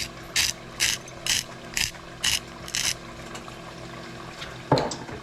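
Black pepper ground in a hand pepper grinder, six evenly spaced bursts of dry ratcheting crunch, close and clear, followed by a brief clunk as the grinder is set down.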